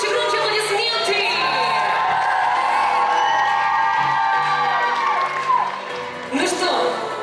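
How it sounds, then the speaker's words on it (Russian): A large crowd cheers and whoops loudly at a university pageant, with shouts and some clapping mixed in, sustained throughout before easing slightly near the end. "Громче аплодисменты"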